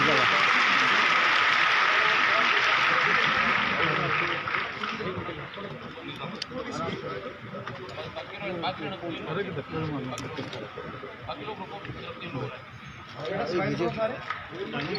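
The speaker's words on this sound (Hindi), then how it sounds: "आइए करतल ध्वनि से इस मौन को अपनी भावनाओं से हम भर दें, खुशी से, उल्लास से, ऊर्जा से, अपनी तालियों के साथ" An audience in a university auditorium claps at a tablet distribution ceremony. A dense burst of applause fills the opening seconds, then thins into a scattered, softer crowd murmur with some talking mixed in.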